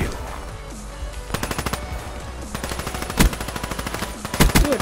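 Machine gun fire in Call of Duty: Black Ops 3 rattles in several rapid bursts, loud and close, with short gaps between volleys and a heavier burst near the end.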